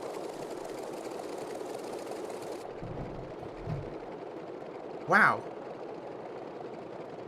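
A Grumman F3F-2 biplane's radial engine runs in Microsoft Flight Simulator 2020 with a steady, fairly quiet drone, joined by a brief rising whoosh partway through; someone speaks briefly.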